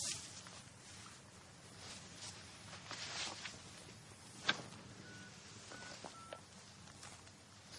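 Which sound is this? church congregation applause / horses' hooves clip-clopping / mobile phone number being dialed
mobile phone number being dialed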